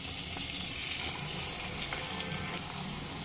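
Tomato paste added to frying masala sizzles in a pan for a steady few seconds, a dense close hiss with faint stirring and no voices.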